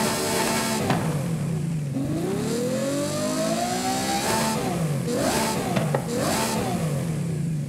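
A Ferrari 488 Challenge fitted with a 6.3-litre hybrid V12 revving in Forza Horizon 5: the engine note climbs in long rising sweeps, broken by quick drops at gear changes, then rises again and again, loud and up close with no talking.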